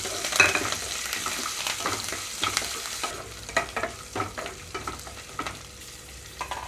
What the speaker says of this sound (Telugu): ఇక్కడ చూడండి ఇవన్నీ కొంచెం దూరగా వేగినప్పుడు కరివేపాకు పచ్చిమిరపకాయలు వేసేస్తున్నాను